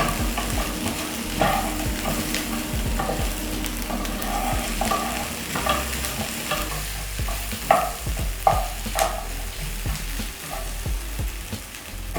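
Pork sizzles steadily as it fries in a pan, seasoned with salt, with repeated scraping and clattering stirs over a continuous low frying hiss, no voices.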